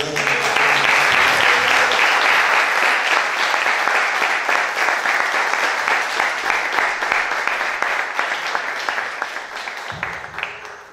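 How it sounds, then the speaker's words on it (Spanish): A church congregation claps steadily for about eleven seconds, a dense wash of hands that slowly thins toward the end. "Denle palmas al Señor."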